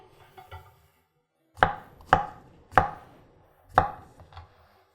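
A Dragon Fire Nakiri knife chops vegetables for stock on a board, four sharp, distinct chops, near and loud, preceded by a few softer taps, with no talk.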